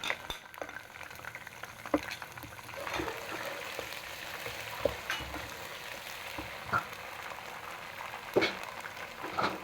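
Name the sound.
frying ginger garlic chili paste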